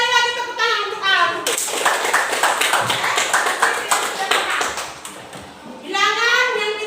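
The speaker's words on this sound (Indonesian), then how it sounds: "Sekali lagi tepuk tangan untuk Al." Children in a classroom clap for a classmate in a burst of quick, rhythmic hand claps, bracketed by a teacher's voice before and after.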